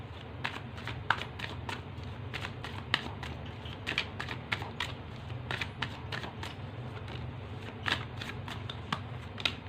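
Tarot cards being shuffled by hand, a steady run of crisp riffling flicks and soft slaps close by, with a brief faint murmur of voice beneath.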